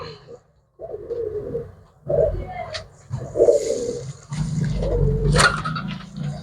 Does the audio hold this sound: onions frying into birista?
no